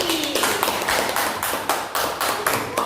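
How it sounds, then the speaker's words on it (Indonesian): A classroom group claps hands together in a quick, irregular burst of sharp slaps, close and loud, with a few distinct rhythmic taps standing out. "Tepuk tangan untuk kelompok Anggrek dan kelompok Jati."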